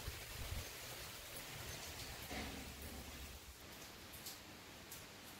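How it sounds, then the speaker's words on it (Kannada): Heavy rain falls outside a home kitchen in Karnataka, a dense steady hiss of drops on surfaces, fairly quiet and continuous throughout with no talk. "ಮಳೆ ತುಂಬಾ ಮಳೆ ಬರ್ತಾ ಇದೆ."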